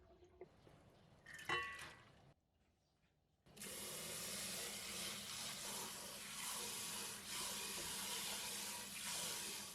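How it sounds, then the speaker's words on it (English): Soaked mung beans washed in a large bowl of water, steady continuous running and sloshing water after a few short splashes and a brief quiet gap, close and moderately loud. "We are going to wash them another 4 to 5 more times in a bigger bowl."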